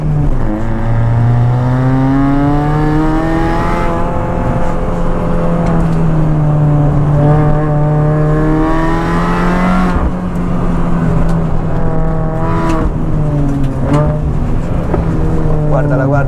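A Mini Cooper S R53 engine revving up and down through gear changes while driving on the road, loud and close, with rising and falling pitch over a continuous drone.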